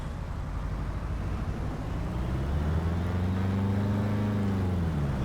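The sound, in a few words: Piper PA-18 Super Cub engine throttling up, Flight Sim World video game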